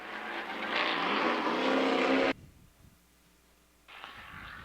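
Stadium Super Trucks race past at Mid-Ohio, a loud, close engine roar building and sustaining, then cutting off abruptly before a second truck's engine roars back in near the end.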